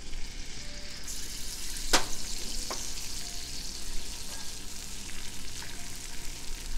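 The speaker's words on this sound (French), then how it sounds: "J'arrête la cuisson de mon caramel avec le beurre." Butter dropped into hot caramel in a pan, a continuous close sizzle with a sharp crackling burst early on, followed by a couple of lighter clicks and steady bubbling.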